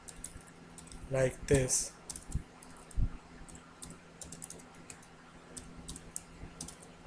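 Code being typed on a computer keyboard: scattered, close key clicks and taps with a short burst of quick strokes, under a brief spoken phrase and quiet background hum.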